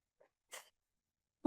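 A single sharp sneeze bursts out after a couple of faint breathy sounds, close and brief in an otherwise quiet indoor room.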